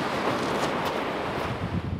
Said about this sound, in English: The wind's coming in quite strong.